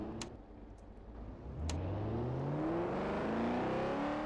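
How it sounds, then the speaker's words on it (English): A car engine in the video game Garry's Mod revs upward in rising, whining pitch sweeps, growing louder and steadier as it accelerates, with a few sharp clicks early on. "Yeah, rev the engine,"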